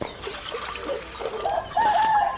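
Water is poured over cleaned red rice set to soak for traditional milk payasam, a steady close splashing trickle over about two seconds, with faint bird chirps in the background and no talking.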